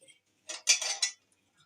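A metal cooking pot is set down with a short clatter of cookware and utensils, a few quick clanks in a quiet kitchen, with no talking.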